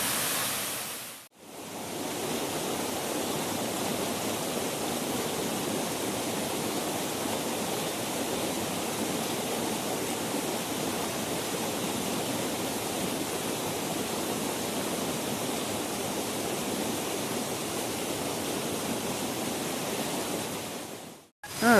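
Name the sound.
Indian Creek Falls waterfall rushing water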